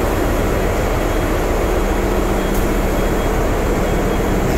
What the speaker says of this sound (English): This is the main engine.